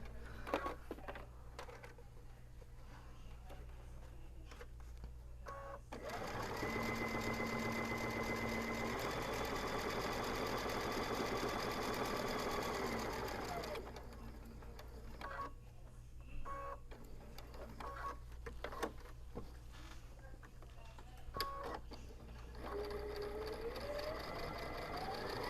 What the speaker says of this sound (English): I'm also going to back stitch over those just one extra time for a little bit extra security.